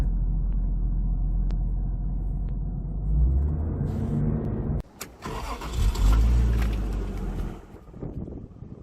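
A 1991 Toyota Supra A70 with a 3.0 turbo engine cranks and fires up, a low rumbling start that settles, then a second surge of revving around midway, loud and close with no talk.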